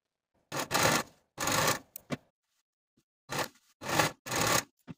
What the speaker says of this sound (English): Now I'm going to finish these raw edges of the darts on the inside using my serger.